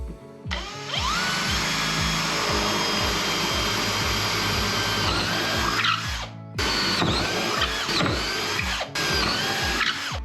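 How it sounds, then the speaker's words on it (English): A power drill whirs loudly and continuously, its pitch rising and falling as it bores holes in wood for a small deck gate, stopping briefly before two more shorter bursts. "So I'm going to drill a hole there and there."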